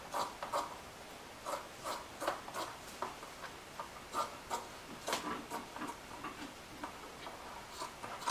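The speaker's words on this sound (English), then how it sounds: "So I cut just along the edge up here." Scissors snip along the edge of a cotton shirt, a series of quiet, crisp clicks and short rubbing cuts in an uneven rhythm, close and faint with no talking.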